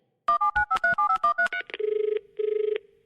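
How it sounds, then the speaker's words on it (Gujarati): A telephone is dialed: a quick run of about a dozen clear touch-tone beeps, followed by two bursts of a trilling ring-back tone, with no talk. "લગાડ ને એને ફોન લગાડજો."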